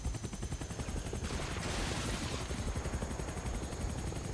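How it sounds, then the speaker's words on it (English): A helicopter in the Halo CE XAM mod thumps with rapid, steady rotor chop and engine whine, loud and close throughout, mixed with rattling gunfire-like bursts. "We're repurposing the helicopter for a weed whacker."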